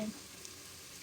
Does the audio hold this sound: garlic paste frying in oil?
yes